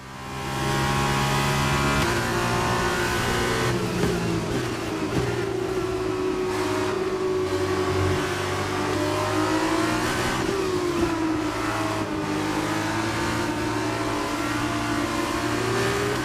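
An F2 racing car in F1 22 at Silverstone drifting through a corner, its engine loud and close, revving hard with the pitch wavering up and down as the throttle is worked.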